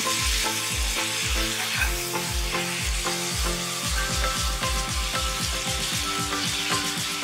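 Masala spices frying in a pan with a little water just added for koi fish tel jhal, a loud, steady sizzle close by with a rapid run of rhythmic stirring scrapes throughout, no voices.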